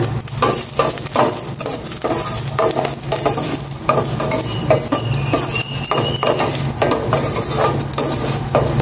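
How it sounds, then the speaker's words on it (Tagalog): Ginger sautés in a pan at home as a spatula stirs and scrapes, steady close sizzling with rhythmic metal-on-pan strokes repeating roughly every half second. "Gisa ko na itong luya"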